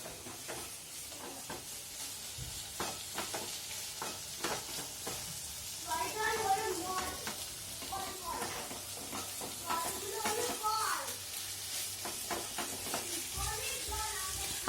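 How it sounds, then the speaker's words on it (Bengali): Egg frying in a spice masala for egg curry, a soft sizzle and hiss with intermittent stirring clicks and scrapes, fairly quiet, with a voice talking faintly in the background. "ডিমটা দেওয়ার পরে এবার মিনিট খানেক বা মিনিট 2 একটু ফ্রাই করে নেব।"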